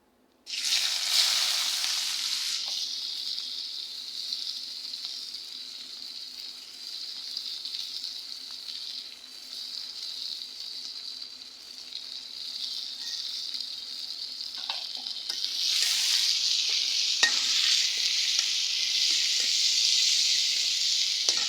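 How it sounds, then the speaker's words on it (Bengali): Green chillies and chopped onion hitting hot oil in a wok, a sudden loud sizzle that settles into a steady hiss lasting the whole stretch, then flares up again near the end, with no talking. "কাঁচামরিচ, পেঁয়াজ কুচি করে রাখা আছে, এগুলো এখন দিয়ে দিব আমি কড়াইতে"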